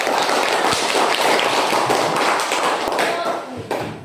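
A classroom of students claps together in a dense, sustained burst of applause that runs for several seconds before thinning out, with a few louder individual claps and voices mixed in near the end.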